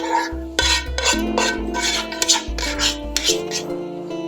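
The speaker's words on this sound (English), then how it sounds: "our yummy sauce, which I'm going to just throw on here and mix it" Homemade sauce with garlic and basil is poured over baked ziti and stirred in, wet scraping and rasping of a spoon against the pasta and dish in short repeated strokes, close and fairly loud with no talking.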